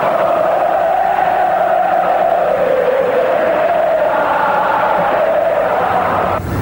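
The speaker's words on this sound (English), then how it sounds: "the crowds chanted Senna's name" A large football crowd in Brazil chants a name in unison, a loud, sustained wall of voices that rises and falls rhythmically across the whole stretch.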